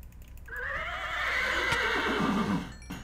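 A horse in a Minecraft-style modded game lets out a long, loud whinny that rises and slowly falls away over a couple of seconds, alone with faint background noise.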